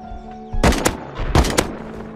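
Gunfire in the survival video game Rust, a quick burst of sharp, loud shots in two clusters, the first around three rapid cracks and the second a similar volley, over a low background hum.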